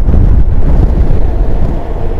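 Wind buffets the rider on a Honda X-ADV scooter-style motorcycle riding in Rayong, Thailand, a continuous loud low roar and rumble with no speech over it.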